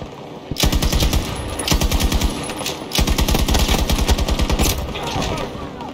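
Rapid automatic gunfire in Battlefield, loud close bursts of fast repeating shots broken by short pauses, with a voice talking between and over them.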